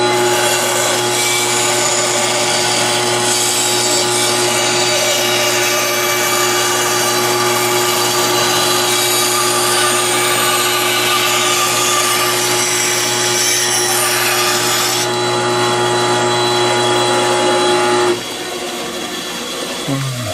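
A hand saw cuts through driftwood in a craftsman's workshop, a loud, continuous rasping drone close by with a steady hum beneath, stopping shortly before the end.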